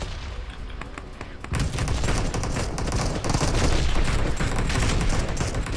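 Bombardment and gunfire in a war video game, a dense, continuous barrage of blasts and shots that grows louder after the first second and stays heavy throughout.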